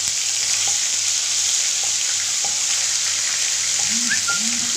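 Ginger garlic paste frying with masala in a pan for red chickpea curry gives a loud, steady sizzle throughout. A few soft stirring knocks come through, and brief faint tonal sounds appear near the end.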